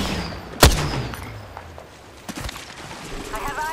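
Gunfire in the video game Apex Legends: one sharp, loud shot near the start, then scattered quieter shots and clatter later, with faint game voice callouts underneath.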